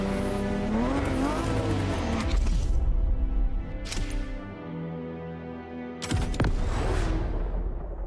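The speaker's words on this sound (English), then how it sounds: "The car you're about to drive in this opening event is none other than the first Ferrari in the supercar bloodline, the Ferrari GTO" The Ferrari GTO from the racing game The Crew Motorfest is driven hard, its engine rising in pitch through several gear changes, with brief tire squeals and sharp bursts of noise near the end.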